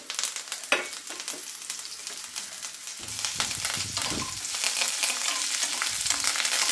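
Green chillies, coriander, curry leaves, garlic and cumin sauté in hot oil in a pan for a watermelon-rind chutney, giving a steady close sizzle with occasional stirring scrapes and no talking.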